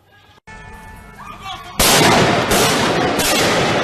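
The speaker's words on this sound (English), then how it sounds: "There are bursts of gunfire with people taking cover between cars." Loud, harsh bursts of gunfire crack out in quick succession on a city street, each blast followed by a rough, echoing roar.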